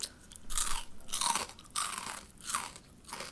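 Close, crisp crunching of Spicy Ranch 3D Doritos being chewed, several bursts in a loose rhythm with quiet pauses between bites.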